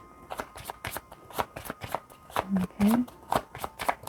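Playing cards are shuffled repeatedly in a quick riffling rhythm, close and crisp, with a person speaking briefly and softly over the rapid bursts of card flutter.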